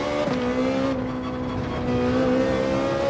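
Car engine in Gran Turismo 7 holding a steady high drone that rises and swells as the car accelerates, loud and continuous with no voices.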